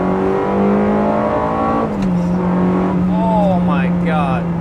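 A manual Ferrari 360's high-revving engine drones loudly and steadily toward 8,500 RPM, its pitch dropping briefly before rising again in sweeping climbs, close and dominant.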